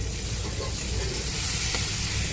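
Onion and garlic with salt frying in a pan for a Bengali fish curry, a steady, close, dense sizzle that crackles without pause and with no talking.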